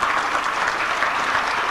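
A church congregation applauds loudly, a dense, continuous patter of many hands clapping at once.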